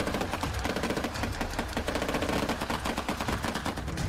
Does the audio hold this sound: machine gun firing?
yes